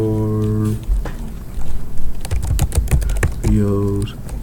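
Rapid bursts of keystrokes on a computer keyboard while entering a password, close and crisp, with a humming tone before and after.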